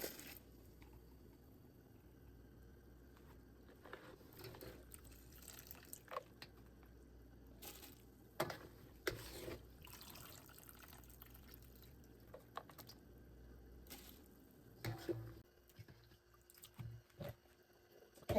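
Sorrel being rinsed in a container of water, with soft sloshing, squishing and dripping, irregular splashes and handling noises up close and fairly quiet, no talking.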